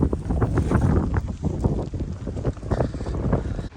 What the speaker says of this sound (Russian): Сегодня сильный ветер